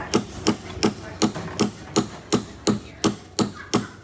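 Sharp hammer blows ring on metal, about a dozen strikes in a steady rhythm, loud and close.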